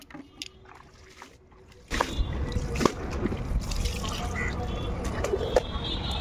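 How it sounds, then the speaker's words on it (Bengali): Clean water is poured repeatedly over a muddy mat being washed: a soft splash starts suddenly and keeps up as a steady, close wash of splattering water, with a few faint drips and clatters before it. "প্লেন পরিষ্কার জল ঢেলে ঢেলে তারপরে এই ম্যাটটাকে ধুতে হলো"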